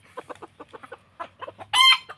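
Freshly caught Thai white-eared game chickens cluck in short, rapid bursts close by, ending with one louder, sharper squawk near the end.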